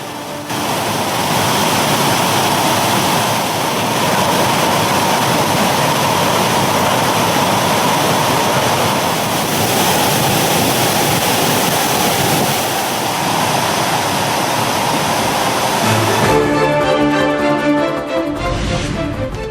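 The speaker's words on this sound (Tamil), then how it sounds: "தொடர் மழையால் திருப்பரப்பு அருவியில் வெள்ளப்பெருக்கு." Thirparappu waterfall in flood after continuous rain roars as a loud, dense, unbroken rush of falling water, steady throughout, with a brief shift in texture near the end.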